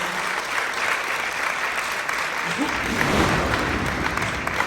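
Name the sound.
audience applause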